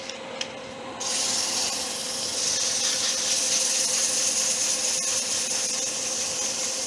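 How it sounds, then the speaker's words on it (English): A brief mechanical lathe hum, then a steady hissing scrape of sandpaper against a spinning wax-coated wooden figurine, continuous and close over the motor's drone. "I'm just giving it a quick sanding while it's on the lathe"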